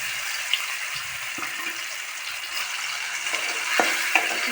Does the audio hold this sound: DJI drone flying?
no